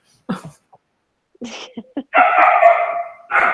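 A puppy barks and yelps from another room, starting with a few short scattered yips and breaking into longer, louder bursts of barking toward the end.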